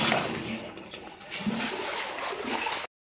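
Fritters (bora) drop into a boiling curry broth, giving a broad, continuous sizzling, splashing bubble that stays loud and close throughout before cutting off abruptly.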